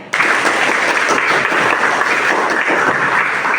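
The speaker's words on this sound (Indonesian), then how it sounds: "Tepuk tangan buat Lore." A class of students at a vocational school applauds a classmate after an answer about the Catholic Church, steady close clapping starting abruptly and holding for a few seconds.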